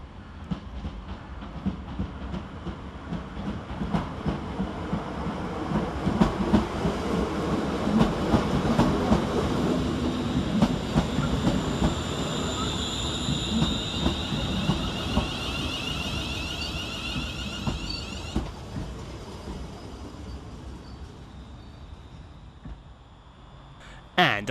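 A West Midlands Railway class 350 electric train arrives to terminate at Walsall station, its rumble and wheel clatter building, peaking mid-clip, then easing as it slows, with a brief sharp sound at the end.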